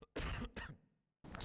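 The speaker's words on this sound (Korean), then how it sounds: "이게 후유증이 기침으로 와가지고 아직도 좀 기침을 좀 하고 있습니다." A man's coughs lingering after recovering from COVID, heard during an artist talk: two short, close coughs in quick succession, a pause, then a third rougher cough, with no speech around them.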